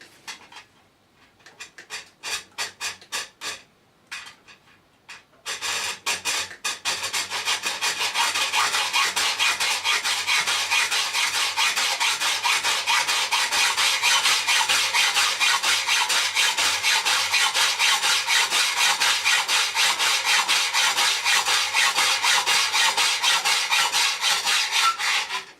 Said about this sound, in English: then we're just going to cut through it using an hacksaw